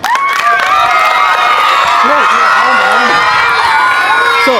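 A crowd of schoolchildren at a Children's Day celebration, cheering and shouting loudly and continuously close by, with some clapping mixed in and an adult voice speaking over the noise.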